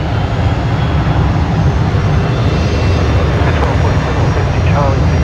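A Qantas Boeing 737-800 jet airliner lines up on the runway at Brisbane Airport at night, its engines giving a loud, steady, broad roar that holds without a break.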